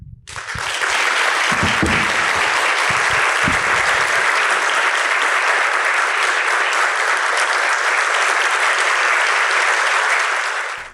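An auditorium audience at a Sempre Um Papo talk with Leonardo Boff claps enthusiastically, a dense, steady roar of many hands sustained for about ten seconds, loud and close, with no voices.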